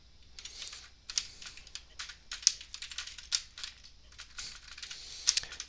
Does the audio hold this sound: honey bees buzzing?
no